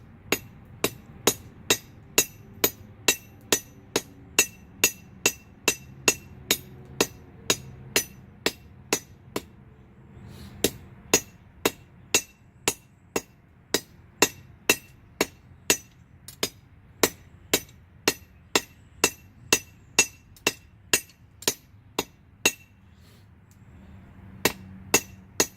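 Steady, ringing hammer blows strike hot steel on an anvil while a J hook is forged left-handed, dozens of bright, evenly paced clinks with one short pause midway, close and clear without talk.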